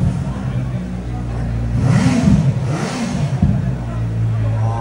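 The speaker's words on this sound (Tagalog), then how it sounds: "So yeah, so that's the unique sound of the inline 4" A CF Moto 675SR-R inline-four motorcycle engine idles, then is revved hard twice in quick succession before settling back to idle, close by and loud, with people talking over it.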